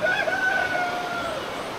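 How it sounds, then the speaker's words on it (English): A rooster crows in a long, loud drawn-out call, with steady outdoor ambience behind it, at a remote rural homestead in the Philippines. "Roosters, every kind of bird,"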